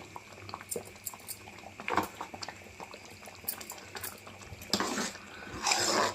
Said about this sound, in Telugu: చూడండి రవ్వ ఎంత బాగా ఉడికిందో.